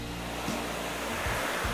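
Surf breaks steadily and close at Padang Beach in Indonesia, a continuous broadband wash of waves with no voices.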